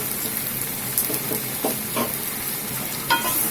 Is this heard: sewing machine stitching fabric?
no